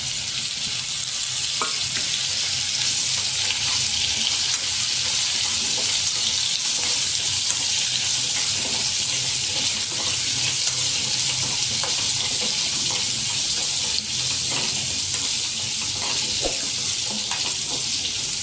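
Grated radish frying in oil tinted with turmeric for a Gujarati radish and chilli sambharo, a loud, even sizzle that holds steady throughout with occasional small pops, close and without talk.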